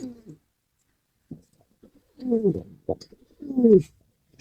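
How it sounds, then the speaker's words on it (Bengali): A male domestic pigeon coos up close, giving several low, rolling bursts separated by short pauses, with the longest and loudest calls toward the end. "কবুতর ডাক যারা শোনে নাই অবশ্য হ্যাঁ, দেখেন কি সুন্দর ডাকে"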